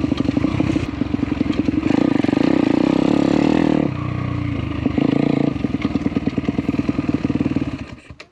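A new YCF 160 Daytona pit bike's engine on a break-in ride at a bike park, close and loud, rasping through revs, dipping briefly to a lower drone mid-way before climbing again, then cutting off at the end.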